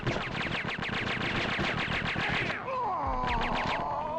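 Submachine gun in the Danger Girl video game fires rapid sustained bursts, loud and close, followed after a brief pause by a shorter burst over a lingering whine.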